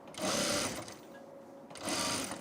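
A sewing machine stitches fabric for a tunic in two loud, steady bursts, with a quieter pause between them.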